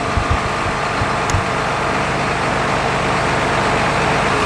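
A John Deere 8400 front wheel assist tractor runs with a loud, constant low engine rumble and a few thumps early on, close and without speech.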